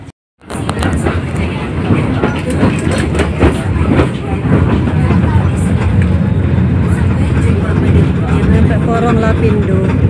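Steady rumble and rattling of an economy-class train car in motion between Pasuruan and Surabaya, Indonesia, with rhythmic clatter from the rails and a muffled mix of passenger voices throughout.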